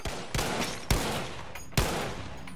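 Three sharp gunshots in the video game Battlefield V, Firestorm mode, spaced about half a second to a second apart, each followed by a short echoing decay, no talking.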